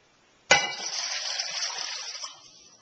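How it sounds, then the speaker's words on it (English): Water gushes from a sudden start into a pot holding skinless chicken, a steady bright pour lasting about two seconds before tapering off, close and fairly loud with no talking. "And to this chicken we're going to add 2 quarts of water."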